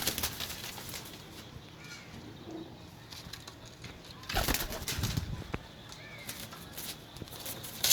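Pigeons offered for sale in Sarai Alamgir coo softly and shuffle about, with a brief burst of wing flapping partway through and someone talking nearby.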